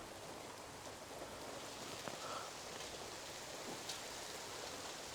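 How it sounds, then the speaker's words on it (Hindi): Steady rain falls outside in a dense, even hiss with faint scattered drops, continuous and moderately distant, with no voices. "बाहर तो बारिश हो रही है"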